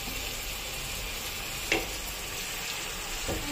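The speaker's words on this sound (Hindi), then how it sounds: "मैंने इसमें कटा हुआ जो प्याज था, बारीक कटा हुआ, मैंने इसमें डाल दिया ये, और इसको थोड़ी देर तक जब तक ब्राउन हो जाता तब तक इसको भून लेती हूँ" Finely chopped onions fry in a pan for dhaba style paneer, giving a steady, close sizzle with a brief clink of stirring partway through; no one speaks.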